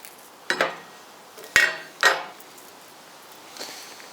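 Metal washers and small hardware clink and clatter in three sharp handled bursts, then a faint rattle, while a lay-down license plate frame is fitted to a Harley-Davidson motorcycle; no speech.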